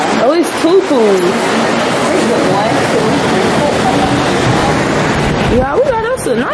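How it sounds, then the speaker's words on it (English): Ocean surf rolling in near a Cancun resort with pools, a loud continuous wash of waves and wind, with voices talking over it. "it's like the ocean never stops"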